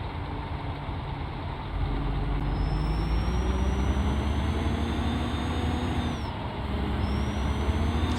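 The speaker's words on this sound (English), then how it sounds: "Nice smooth gear change" A Scania Paradiso G7 1800 double-decker bus in Euro Truck Simulator 2 shifts gears off-road, its steady engine drone dipping and rising in pitch as the gear changes, with a continuous rumble throughout.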